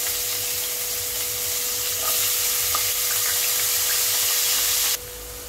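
Small pieces of potato fry in hot oil with a steady, even sizzle close by, a few faint pops and clicks, and a drop in level just before the end.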